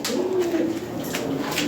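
A pair of Maltese pigeons coo close by in a soft, low, drawn-out call, with one coo leading and a fainter one following in a brief burst.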